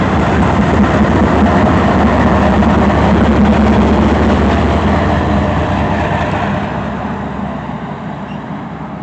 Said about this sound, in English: That's the end of the three-way train meet.